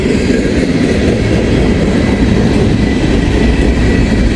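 A CSX freight train carrying huge stones rolls past very close and loud, a continuous heavy rumble of wheels and rail cars with no break, coasting downhill.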